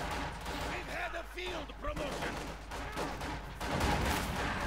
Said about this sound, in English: The assault rifles open up.